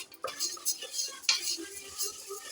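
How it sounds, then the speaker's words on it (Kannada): Split moong dal (yellow lentils) dry-roasting in a pan, stirred with a spoon that gives close, dry scraping and rattling strokes in short bursts, with no voices. "ನಾವು ಈ ಥರ ಹೆಸರು ಬೇಳೆನ ಡ್ರೈ ಆಗಿ ಉರ್ಕೋಬೇಕು ಸ್ವಲ್ಪ"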